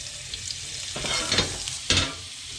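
Chopped leeks drop into very hot oil and butter in a pan, sizzling steadily up close, with louder bursts of crackling as they are stirred and tossed around.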